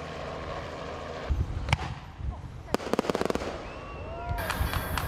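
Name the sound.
paintball guns firing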